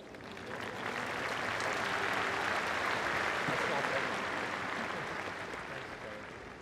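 Crowd applause at the Australian Open for a presentation to a group of leading women, swelling in after the first second, holding as a dense continuous roar of clapping, then tapering near the end.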